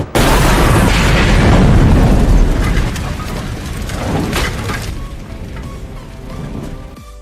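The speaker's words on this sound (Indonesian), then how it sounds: "si Chris pun berniat untuk meledakkan sarang si Kopet ini" A loud explosion blows up a creatures' nest in the 2003 horror film Wrong Turn, a sudden heavy boom followed by rumbling debris and crackling fallout that slowly fades over several seconds.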